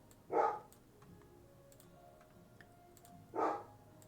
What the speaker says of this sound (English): What are you barking at, bud?